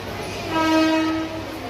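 A train horn sounds in a single sustained blast, rising and fading over the steady rumble of a train nearby.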